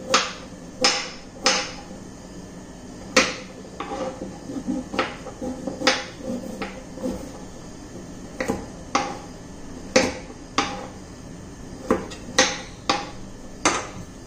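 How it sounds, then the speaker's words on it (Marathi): Coconut being chopped for chutney, with a knife striking a cutting board in sharp, close knocks, sometimes spaced and sometimes in quick clusters, over a quiet kitchen background. "मी आता खोबरं चिरून घेते."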